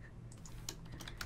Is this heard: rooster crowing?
no